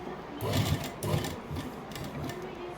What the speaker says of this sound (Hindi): अब इस पर हम पक्की सिलाई लगाएंगे